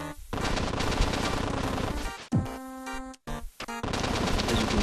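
Machine gun fire from the Cave Story video game, rapid continuous bursts filling most of the stretch, briefly breaking off midway with a few short pops and a tone before the dense firing resumes, loud and close.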